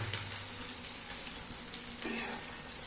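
Onions and green chili sizzle in hot oil in a pan, a steady, loud, close frying hiss that continues throughout with no one talking.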